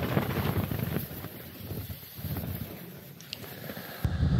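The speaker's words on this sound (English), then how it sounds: "And here you can see now the tent in the wind, 40 miles an hour." Strong wind of about 40 mph buffeting a Hilleberg Akto tent pitched in high winds, a steady roaring rush with gusts that swell and fade, close and continuous throughout.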